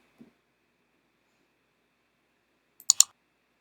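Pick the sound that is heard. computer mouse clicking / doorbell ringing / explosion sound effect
computer mouse clicking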